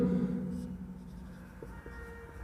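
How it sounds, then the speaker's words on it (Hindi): Writing on a board during a Hindi-language Class 10 science lesson on electricity, heard as soft continuous scratching strokes with a few brief taps, over a low background hum. "तो हम लिखते हैं और देखते हैं क्या लिख सकते हैं।"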